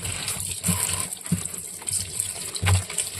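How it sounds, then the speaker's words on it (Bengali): Taro leaves being washed in water and rubbed with a cloth, giving soft splashing, sloshing and wet rubbing in irregular bursts, close by and moderately quiet, with no talk. "কচু শাকগুলো ভালো করে ধুয়ে দিচ্ছি এই কাপড়টা দিয়ে ডলে ডলে।"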